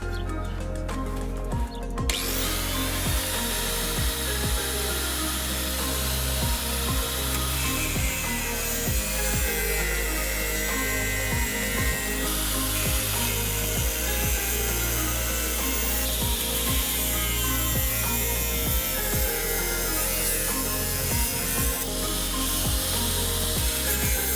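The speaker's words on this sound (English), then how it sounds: "So we use the socket and an extension to hold the arm up while we do the grinding." A grinder trims a section off a Nissan Navara D40 control arm, propped up on a socket and extension, giving a loud, sustained, harsh whine with steady rough grinding throughout.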